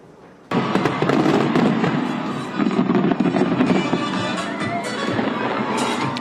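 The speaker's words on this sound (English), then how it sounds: "The firework display happened near the Sydney Harbour Bridge." New Year fireworks explode near Sydney Harbour Bridge, a sudden loud onset followed by a dense, continuous barrage of bursts and crackles, heard from a distance with no clear voices.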